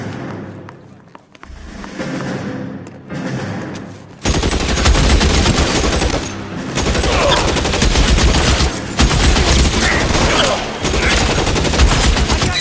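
Gunfire from a shootout in the video game LA Noire: dense bursts of rapid shots and thuds roar loudly and continuously after a quieter opening, with scattered shouting mixed in.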